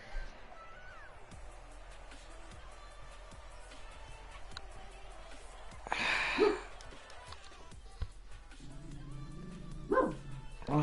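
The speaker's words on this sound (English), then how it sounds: "my dog's gonna bark" A dog barks a few times in the background, faint and somewhat distant, with a couple of short yips standing out over a low steady hum.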